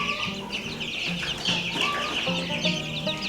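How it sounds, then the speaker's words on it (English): A pet chick held in someone's hands gives soft, repeated clucks and chirps in quick irregular bursts, close by and fairly clear over a light background. "You're my favorite chickie I got."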